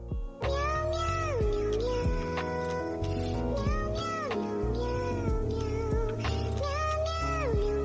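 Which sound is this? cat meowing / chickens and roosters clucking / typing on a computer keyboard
cat meowing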